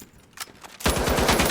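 An M60 machine gun fires in a video game. After a few quiet clicks, a loud, rapid, sustained burst of automatic fire kicks in and runs to the end.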